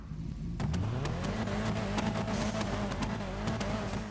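Car engine in GTA Online, an Annis Elegy Retro styled as a Skyline GTR, revving steadily and loudly with a rising pitch, sustained throughout with a few sharp clicks over the drone.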